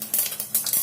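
Mustard seeds crackling and sizzling in hot oil in a kadai on a stove, a dense high hiss broken by quick popping bursts, close and alone.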